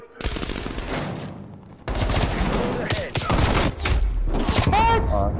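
Video game shooting battle, with dense rapid bursts of gunfire, loud and close, including a sustained machine-gun-like stretch in the second half, while players talk over the shots.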